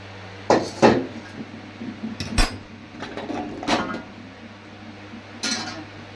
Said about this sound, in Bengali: এবার আমি একটা পাত্রে ঢেলে নিচ্ছি